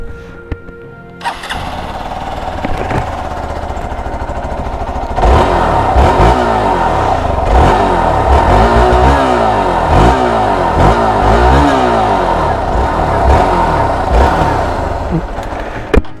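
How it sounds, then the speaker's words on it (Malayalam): Hero Xpulse 200 4V motorcycle starting up, then idling and revving repeatedly through its exhaust, close and loud with rising and falling engine pitch sweeps. "നിങ്ങൾക്ക് ഇതിൻ്റെ എക്സോസ്റ്റ് സൗണ്ട് ഞാൻ കേൾപ്പിച്ചു തരാം"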